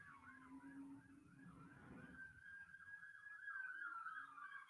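Distant emergency sirens wail in rising and falling cycles, fairly faint, with a second siren joining partway through over low background rumble.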